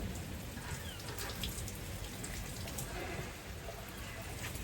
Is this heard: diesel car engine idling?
no